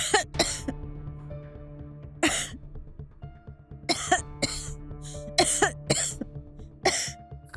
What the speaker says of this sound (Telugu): అరే దగ్గటం కాస్త ఆపుతావా? నువ్వు దగ్గుతుంటే టెన్షన్ వస్తుంది.